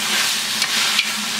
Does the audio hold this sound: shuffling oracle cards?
no